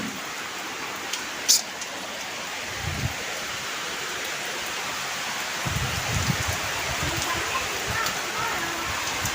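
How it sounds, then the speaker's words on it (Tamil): Heavy rain pours down steadily at a house, a dense continuous hiss with a few louder splashes and brief knocks, and some indistinct voices beneath the downpour. "அதனால் மழைக்கு முன்னாடி வீட்டுக்கு வந்துட்டு வந்து அடுத்த நிமிஷமே செம்ம மழை."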